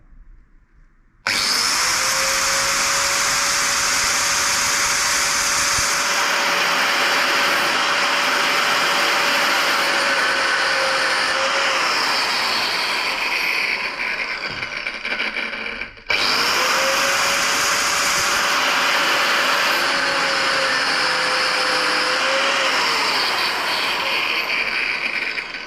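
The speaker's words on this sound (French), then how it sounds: "avec une disqueuse, de créer un cran afin de pouvoir essayer de la dévisser" Angle grinder cutting a notch into a seized screw on a motorcycle engine during removal of the ignition, alternator and starter, two long loud close bursts of steady grinding whine separated by a brief pause.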